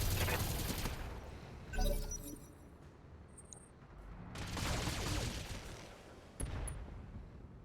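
A BattleTech mech unleashes an alpha strike in a video game, three loud bursts of weapons fire with crackling, shattering impacts separated by quieter gaps.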